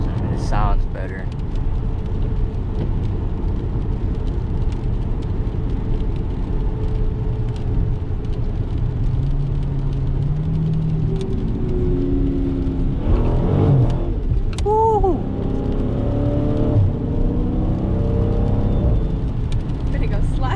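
Stock 2018 Dodge with the 392 engine rumbles steadily from inside the cabin while driving in the rain, with a low engine drone throughout, a brief rise in revs, and a voice talking over it.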